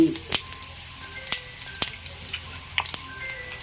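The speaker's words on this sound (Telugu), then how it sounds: "జీలకర్ర వేసాను ఆవాలు వేసాను ఎండిమిర్చి" Cumin, mustard seeds and dried red chilli sizzle in hot oil for a mango pickle tempering, a steady close crackle with sharp pops and spits scattered through it, no voices.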